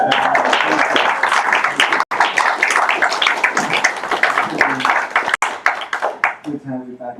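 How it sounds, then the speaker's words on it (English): Audience applause after a literary reading, lively clapping with a voice talking over it throughout, trailing off into scattered claps at the end. "Another round of applause for me."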